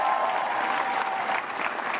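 Sustained audience applause filling a hall at a 2015 Manchester political event on the NHS, steady and dense throughout with no voices over it.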